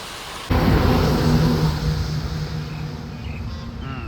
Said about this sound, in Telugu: అంతలోనే ఇంత పెద్ద వర్షం అయితే స్టార్ట్ అయిపోయింది